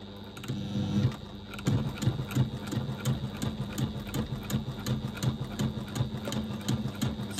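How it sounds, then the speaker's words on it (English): A sewing machine runs steadily as it top stitches along a fabric edge, its rapid needle pulses forming an even mechanical chatter that carries on for several seconds, up close with no voices. "we're just going to top stitch along the edge"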